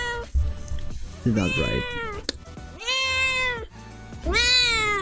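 Cat meowing several times in clear, drawn-out calls close by, with a brief spoken remark between them.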